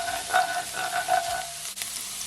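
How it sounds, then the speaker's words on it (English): Garlic sautéing in a pan of oil for pepper steak, a steady close sizzle and crackle with a few brief stirring scrapes, no voices. "So I'm adding my garlic now. And you're just gonna leave it to saute"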